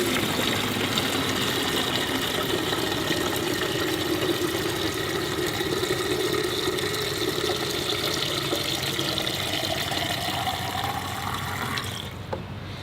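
Rainwater from a tank valve pours steadily into a watering can for about twelve seconds, a continuous close splashing whose pitch rises as the can fills, then the flow tapers off.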